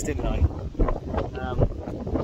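Wind gusts buffet the microphone on a soggy, windy hilltop, a loud rumbling roar that keeps surging, while someone talks briefly over it.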